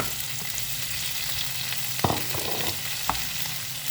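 Squid with holy basil stir-fried in a pan, a continuous close hiss of sizzling oil with a couple of sharp spatula scrapes and clacks against the pan, no voices.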